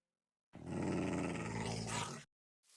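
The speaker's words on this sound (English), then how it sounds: "there's a wild dog out here and he's just loud and obnoxious" A wolf from the Minecraft modpack SevTech: Ages growls and roars loudly and close for under two seconds, a rough, harsh snarl standing alone with no talk over it.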